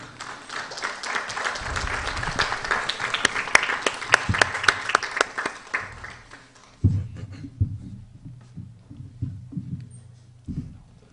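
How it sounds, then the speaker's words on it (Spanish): An audience at a neuroscience conference inauguration applauds a speaker, dense clapping for about six seconds that thins and fades, followed by low muffled handling thumps and faint background noise. "le damos un fuerte aplauso, por favor, al doctor Pacheco"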